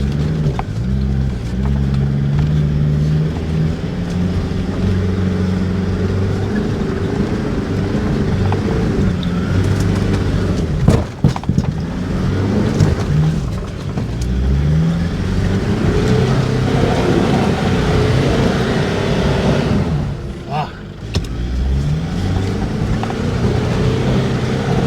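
A 4x4 with aired-down tires labours up a slippery hill, its engine droning loud and steady for the whole stretch, revving and straining with brief surges, dips and wheelspin bursts near the middle and toward the end.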